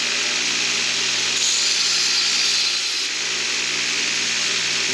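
A power tool grinds and smooths the edges of small metal leg pieces for a Blackstone griddle burner modification, a loud steady whine running unbroken throughout with a slight rise in the middle.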